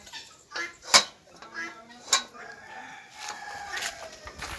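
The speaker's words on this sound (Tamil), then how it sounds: "இதுதான் இந்த சில்வர் கோழி" A silver chicken clucks and crows in short bursts, with some clattering and background voices around it.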